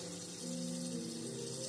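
Warm tap water running steadily from a sink faucet over wrists and hands during a clinical handwashing routine, a soft continuous rush with a low tonal hum underneath.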